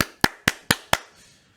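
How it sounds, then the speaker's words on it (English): Five sharp hand claps in an even rhythm, close and clear, each snapping off quickly into a short room decay, with quiet afterward. "Will you clap first?"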